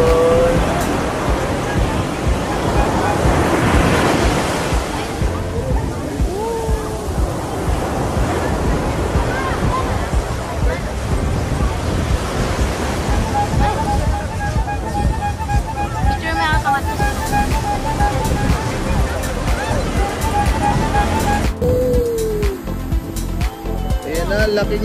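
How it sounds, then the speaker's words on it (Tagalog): Large ocean waves roll and crash near the shore in La Union with loud, sustained surf roar and gusting wind across the microphone. "Laki ng alon."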